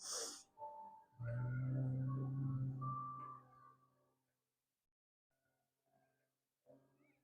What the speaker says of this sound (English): breathe in and make the humming sound. Feel the vibration.